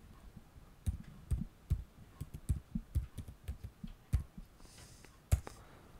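Irregular clicks of keys being typed on a computer keyboard, a dozen or so close, crisp taps in uneven bursts over a quiet background, with no talking.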